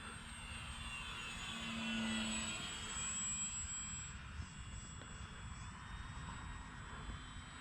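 A yellow-and-black four-channel RC Flyer trainer airplane flies overhead with a steady, buzzing small-engine whine that swells slightly and then holds at a moderate distance, with no talking.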